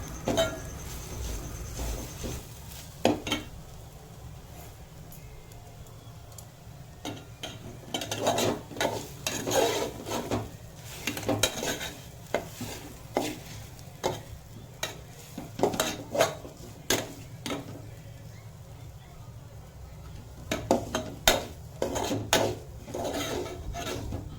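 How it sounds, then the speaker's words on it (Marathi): Grated fresh coconut sautéed in ghee in a pan for Marathi coconut vadi, heard as steady scraping and stirring with repeated spoon-on-pan clinks and a faint background sizzle, close by with no talk. "नारळ तुपामध्ये चांगल्या प्रकारे परतून घ्यायचे आहे"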